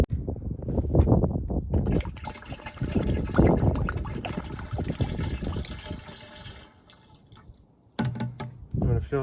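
Sea Foam fuel additive glugs and trickles as it is poured into the gas tank of a riding mower, a close liquid pouring sound that fades out, then briefly resumes.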